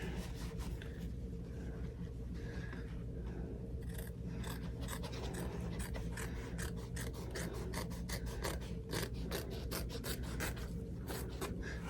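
Scissors snip repeatedly close to the stitching as fabric is trimmed on an in-the-hoop embroidered zipper bag, a steady run of crisp cuts and rasping blade strokes over a constant low machine hum.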